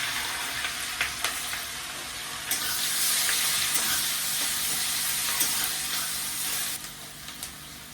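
Five-spice tempering fries with onion and green chili in oil for a Bengali pui shak, pumpkin and fish-roe chorchori. A loud, hissing sizzle swells midway, with occasional utensil taps against the pan.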